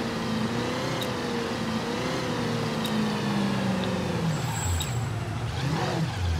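Car driving in Mafia III, a steady engine drone with a wavering hum and a slight rise near the end, faint ticks and knocks over continuous road noise, no talking.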